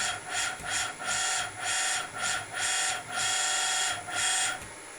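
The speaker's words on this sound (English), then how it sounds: "this is just a bit of G-code to whiz the motor backwards and forwards" A 1.8 kW BST Automation AC servo motor, driven back and forth by G-code, whirs in rapid, evenly spaced bursts: about ten whining pulses, each briefly dipping between direction changes, close and steady with no talking.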